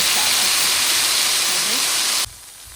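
Leftover biryani masala sizzles loudly in hot coconut oil in a pan, a dense, steady hiss that cuts off abruptly near the end.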